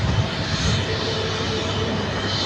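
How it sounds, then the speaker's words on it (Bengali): A US-Bangla Airlines airplane arriving at an airport produces a steady, broad engine roar with a low rumble, continuous and fairly loud throughout, with no clear talk over it. "এই বিমানটি মাত্র আসছে"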